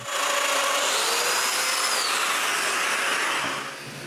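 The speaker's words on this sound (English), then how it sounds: "so I make the width of the mortises bigger and drill the last 4 mortises" A power tool cuts mortises in wood for a bathroom towel cabinet, a loud, steady whirring grind that holds for about three and a half seconds before cutting off and dropping away.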